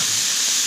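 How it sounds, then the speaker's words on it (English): Corn steaming and sizzling on a hot griddle gives a steady, dense hiss that is loud and close, with no voices over it. "We're going to get a nice little sizzle going on,"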